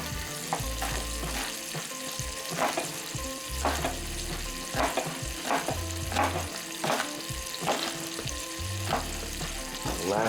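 Onions frying in a pot for chicken noodle soup: a continuous close sizzle with a regular series of scraping stirs, loud and uninterrupted by talk.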